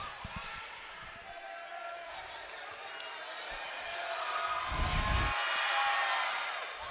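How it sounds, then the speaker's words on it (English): Indoor college basketball arena crowd during a Utah Tech vs Seattle women's game, a broad wash of crowd noise that swells into a louder reaction after missed free throws, with a few ball bounces and a commentator talking over it. "as you hear the crowd react to the 2 missed free throws"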